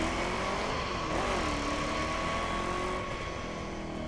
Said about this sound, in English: the plane's starting to take off